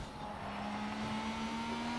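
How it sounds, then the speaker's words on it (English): Sustained engine roar of a car held at full throttle in the racing game Forza Horizon 4, with a steady rising tone throughout and no talk over it. "Now I'm accelerating, throttle is all the way down"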